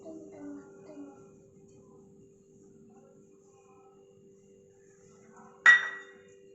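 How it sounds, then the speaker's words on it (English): Oil poured into a hot pan during a school cooking challenge, a sudden loud sizzle bursting out near the end after quiet background hum and faint voices. "Now, I'm going to add the oil into the pan."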